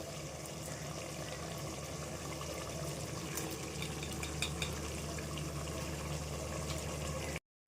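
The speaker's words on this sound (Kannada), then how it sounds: "ದಪ್ಪಗೆ ರುಬ್ಬಿಟ್ಕೊಂಡಿರೋ ಟೊಮೊಟೊ ಹಾಕ್ತಾಯಿದ್ದೀನಿ." Coarsely ground tomato going into a cooking pot for mushroom biryani, a steady wet sizzling and bubbling texture with soft liquid splashes throughout, close and moderately quiet, ending abruptly.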